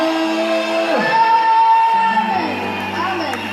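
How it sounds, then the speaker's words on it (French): A church congregation shouts and cheers in joyful cries of praise, a loud continuous mass of overlapping voices with rising whoops and a sustained tone running through it. "On pousse encore des cris de joie pour des cris de joie."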